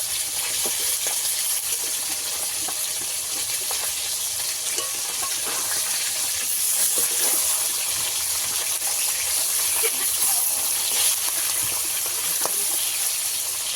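Rupchanda pomfret fish frying in oil in a pan, a loud, continuous sizzle with bubbling crackle that holds steady throughout, with no talking.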